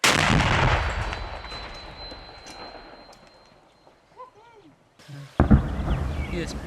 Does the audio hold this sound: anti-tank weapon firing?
yes